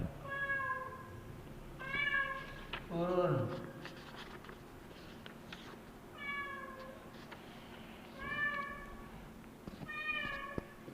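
A cat meows repeatedly and clearly, about half a dozen drawn-out calls at irregular intervals, with one lower, wavering cry, while a person talks calmly nearby in an indoor room.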